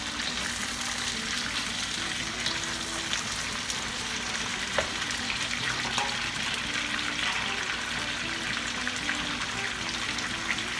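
Champignon mushrooms stir-frying for a Thai basil dish, giving a steady, close sizzle and hiss throughout with occasional stirring clatter and no talk.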